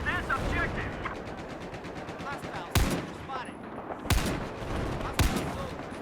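Battlefield 4 gunfire: rapid automatic bursts running under a steady background din, broken by three sharp, louder blasts, with a voice briefly audible in the mix.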